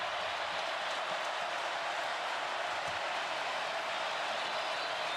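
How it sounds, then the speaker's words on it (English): A stadium crowd at a college football game, Alabama at Auburn, roars in a steady, unbroken wall of cheering that stays loud and even throughout. "The crowd has really wound up."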